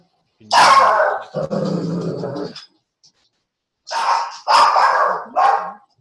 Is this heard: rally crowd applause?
no